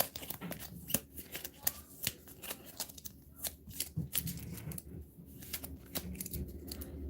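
Deck of playing cards being shuffled during a Marvel Champions card game session, a run of quick riffling flutters and soft card snaps repeating close by, with no talk.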